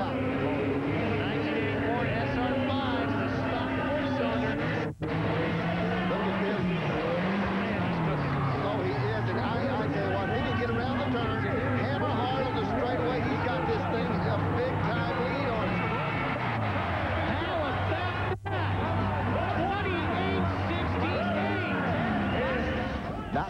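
A 1984 Toyota SR5 with its stock four-cylinder engine roars through a monster truck run at a 1997 Kansas City event, engine revving and shifting pitch continuously while an excited commentator talks over it throughout.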